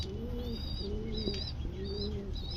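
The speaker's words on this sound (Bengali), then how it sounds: "কবুতরটি অনেক সুন্দর" Pigeons coo close by in soft, repeated low calls, several rounds in under three seconds, with brief higher chirps from other birds mixed in and no one speaking.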